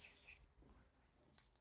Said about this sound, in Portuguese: Venho com o spray médio